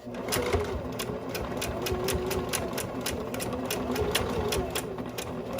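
A sewing machine back stitches along a tote bag handle, its needle hammering in a fast, steady rhythm up close. The whirring chatter runs unbroken, with no talk over it.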